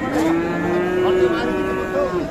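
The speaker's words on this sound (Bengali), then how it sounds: "আমরা এখানে আরেকটি গরু দেখছি" Sahiwal bull calls with a long, loud, sustained moo at a cattle market in Dinajpur, a single drawn-out bellow that fills the moment with no talk over it.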